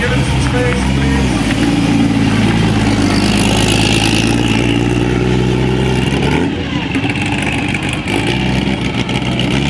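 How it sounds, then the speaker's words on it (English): The 1979 Daytona 24 Hours-winning Porsche 935 race car runs with a loud, deep engine rumble at a parade, steady and close with a slight change in tone partway through. "1979 Daytona 24 hours winning Porsche 935."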